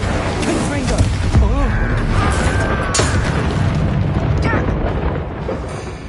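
Spell blasts from Incendio and Confringo burst repeatedly in Hogwarts Legacy, loud booming fire explosions over a dense, continuous game soundscape with shouted voices throughout.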